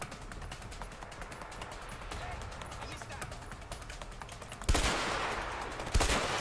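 Gunshots ring out in the video game A Way Out: a couple of sharp bursts of gunfire land over steady, busy game noise, with people talking over the action.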